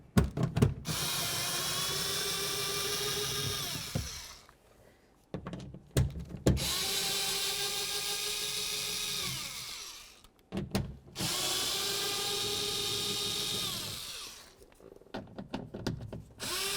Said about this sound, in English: Let's go ahead and remove all of these,